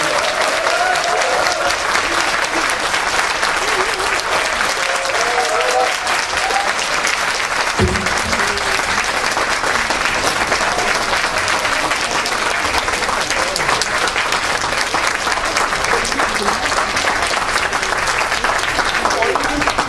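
A large indoor audience gives loud, sustained applause to welcome an education superintendent at a public talk, a dense unbroken roar of clapping filling the whole span, with a voice briefly audible beneath it.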